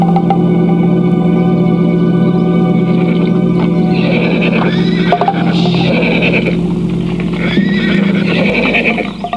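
Horse neighing loudly and close, with whinnies rising around the middle and again near the end over a steady low hum and faint hoof clatter, no speech.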